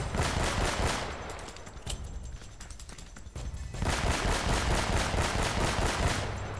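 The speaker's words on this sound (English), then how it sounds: "This pistol's mad." Pistol fire in the action video game Uncharted, rapid repeated shots cracking over a dense, loud layer of game noise and rumbling action, with no one speaking.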